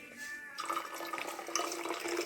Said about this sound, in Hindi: मैंने बोतल में पानी भर लिया है